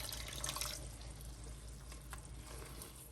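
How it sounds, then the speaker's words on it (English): Starchy pasta water poured into a pan of butter and heavy milk for a Valentine's heart-shaped pasta sauce, a steady close running splash with a brief louder gush at the start, no talking. "And I'm adding the water from the pasta."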